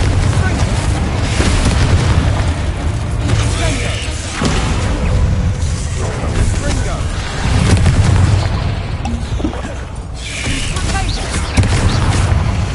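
Confringo blasting spells explode one after another in Hogwarts Legacy, heavy booming blasts with a rumbling low end that keeps the scene loud throughout.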